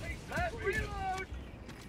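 Weapon reload in a video game: quick mechanical clicks and clacks over about two seconds, mixed with tonal voice-like sounds and steady background noise.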